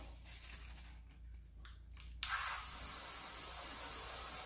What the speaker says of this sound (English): I'm gonna spray my hairbrush